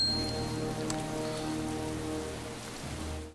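Steady heavy rain pours throughout a climactic fight scene in the film Jack Reacher, a dense continuous hiss of drops hitting surfaces, loud and even with no voices.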